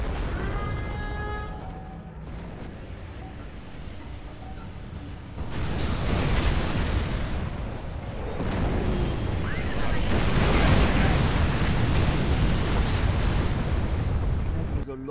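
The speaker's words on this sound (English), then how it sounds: "Our nuclear missile is ready for launch." A nuclear missile launches in the Generals: Shockwave strategy game, a swelling roar of rushing, rumbling blast noise that builds after a few seconds and stays loud and dense to the end.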